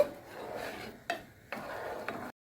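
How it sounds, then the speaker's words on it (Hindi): A pot of sweetened milk with coconut shavings being stirred, giving a steady scraping swirl with a few sharp clinks of the spoon against the metal rim. "अब इसको मिक्स कर लेंगे अच्छे से।"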